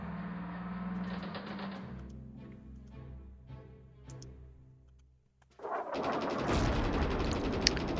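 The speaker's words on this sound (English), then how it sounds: "Strafing." A strafing run in a World War II strategy video game: low droning tones and scattered ticks give way to a sudden loud, dense burst of rattling fire that carries through the final seconds.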